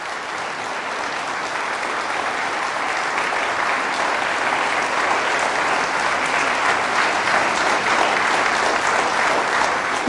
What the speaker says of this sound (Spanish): Fuertes aplausos a Jesús de Nazaret.